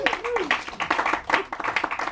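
Audience at a comedy show claps and cheers for comedian Zeb Naiditch, with dense clapping and whoops mixed under a host's voice calling out over the crowd.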